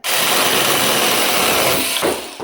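A cheap cordless battery-powered saw whines continuously and loudly as it struggles through a cut, its motor bogging slightly toward the end before a brief stop.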